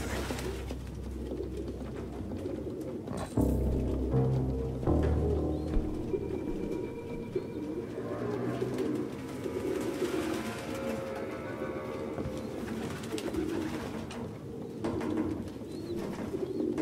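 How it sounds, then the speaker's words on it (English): Pigeons cooing in the video game Detroit: Become Human, soft repeated coos and fluttering set against a low ambient room hum, with a sharp thud partway through, fairly quiet overall. "No human could live with all these fucking pigeons."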